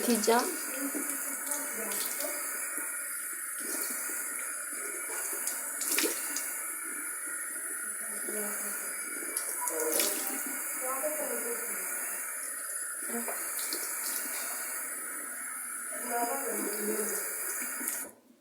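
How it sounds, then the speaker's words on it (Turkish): Tap water runs steadily into a sink while someone washes their face, a continuous close hiss with small splashy bursts as hands cup and splash water, broken by brief pauses. "Hemen Yüzümü yıkadım."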